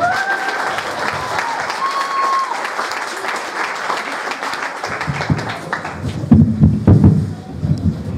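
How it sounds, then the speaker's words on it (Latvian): Applause from an audience at a live Latvian show, sustained clapping with a few shouts and vocal calls mixed in, growing louder and fuller near the end. "Aplausīt man!"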